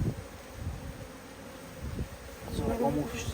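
Honey bees fly around a nucleus hive that has just been moved, making a steady, fairly faint buzzing that thickens and grows louder toward the end.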